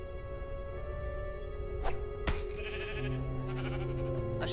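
A sheep in the video game Minecraft Story Mode gives a short bleat, clear and close over a sustained musical background with a few soft clicks.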